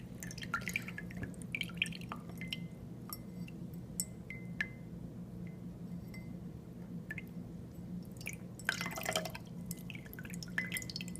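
Water drips and trickles from a water purifier as its fitting is loosened, heard as close, irregular plinks and small splashes over a steady low hum, with a brief fuller gush near the end.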